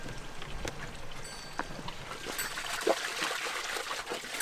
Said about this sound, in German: Hier kommt dann irgendwo die Quelle aus dem Berg.